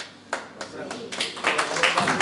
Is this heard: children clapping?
yes